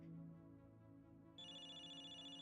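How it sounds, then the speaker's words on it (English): A phone ringing somewhere at the back of a movie audience in the game Zenless Zone Zero, a faint electronic tone under a soft background hum, turning into a steady high-pitched ringtone partway through. "You can hear someone's phone ringing from the back"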